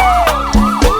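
Police siren in a music track, a loud wailing tone sweeping up and down repeatedly, mixed over thumping low beats, with no voices.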